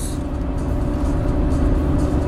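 Inside a 2005 Seat Ibiza cruising at 80 km/h, a steady loud drone of engine, tyre roar and road rumble fills the poorly insulated cabin, constant and unbroken throughout.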